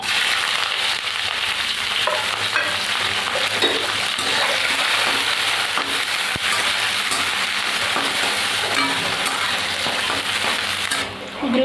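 Onion, garlic and chili frying in hot oil in a wok, giving a continuous bright hiss and sizzle with faint scrapes and clinks throughout, close and steady until a brief drop at the end.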